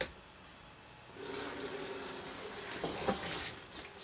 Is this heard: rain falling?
no